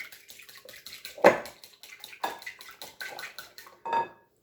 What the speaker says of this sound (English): then I'm going to drain all that water off that pasta so it can start cooling